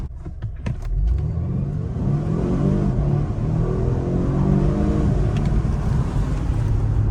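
A Volvo S60 Polestar Engine accelerates hard from 0 to 100 km/h, its engine note rising steadily and loudly through the gears, heard close from inside the cabin with no talk.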